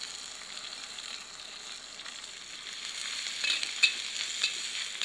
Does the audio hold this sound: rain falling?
no